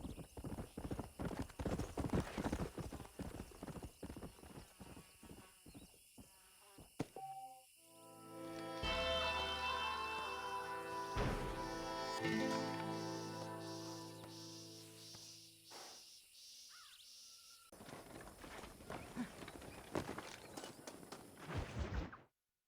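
Stallion hooves clip-clop in rapid, rhythmic bursts in Red Dead Redemption, with a whinny and a stretch of sustained game sound in the middle before the hoofbeats return, close and clear with no talk.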